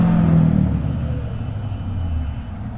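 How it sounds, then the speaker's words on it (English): A lifted, dirty pickup truck rolls past outdoors, a fairly quiet low rumble that peaks early and fades slowly with no talking. "You got a freaking lifted, dirty truck."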